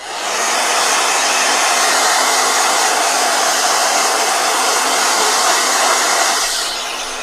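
A blow dryer runs loud and steady close by, its airy whir switching on and holding for several seconds before tapering off, with no voices.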